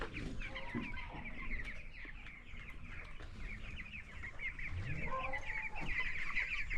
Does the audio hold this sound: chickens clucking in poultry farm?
yes